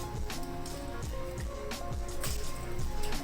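Raw chicken pieces, about a kilo, drop into a karahi pan with garlic-ginger paste, giving soft repeated wet squishes and thuds over a steady busy kitchen background.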